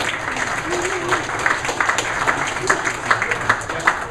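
Audience applause for two conference speakers at a farming technology talk, steady broadband clapping from a crowd with a few sharper individual claps standing out, continuous for several seconds.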